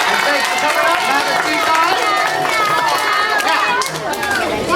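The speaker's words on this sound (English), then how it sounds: "Everybody give Judah and Annika a nice round of applause." Crowd at a children's camp magic show applauds, a sustained burst of clapping mixed with chatter and excited voices filling the room throughout.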